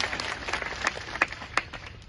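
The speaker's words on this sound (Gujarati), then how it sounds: "તાળીઓથી વધાવો" Applause from a farmers' meeting audience, a soft scattered patter of claps with a few louder claps standing out, fairly distant and even.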